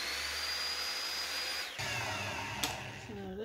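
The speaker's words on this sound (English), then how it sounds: "I have my miter saw set to 45 degrees. I'm going to cut off this first little bit." A miter saw set to 45 degrees cuts a small piece of scrap wood, a steady motor whine that changes pitch midway as the blade passes through, followed by a brief sharp snap and the motor winding down.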